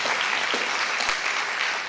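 A gala crowd gives a round of applause, a steady wash of many hands clapping at once, fairly loud and unbroken throughout.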